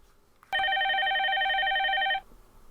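A telephone rings for an incoming call with a single steady electronic tone lasting under two seconds, fairly loud and alone in a quiet background.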